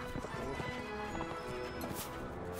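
Horse hooves clip-clopping at a gallop in the medieval combat game Mount and Blade Warband, a quick uneven beat with a whinny, mixed with game noise and faint voices.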